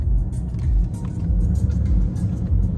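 A Toyota hybrid car rolls downhill, a low steady rumble of tires and road noise with muffled cabin hum, fairly loud and unbroken throughout.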